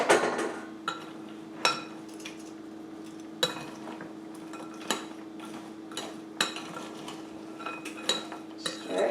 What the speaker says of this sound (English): Stir it until it's evenly spread.